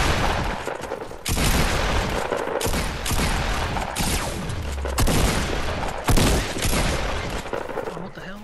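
Gunfire in the game Fortnite comes as loud, dense bursts of rapid shots with brief pauses between volleys, close and harsh over a constant background.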